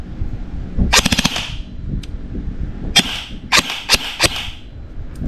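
A Daniel Defense M4 PDW AEG airsoft rifle fires several short bursts and single shots close by, with rapid mechanical clatter over a steady indoor background rumble.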